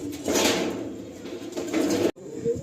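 A pair of pigeons at a pigeon loft cooing close by, soft low rolling calls over a noisy background, with a brief dropout near the end.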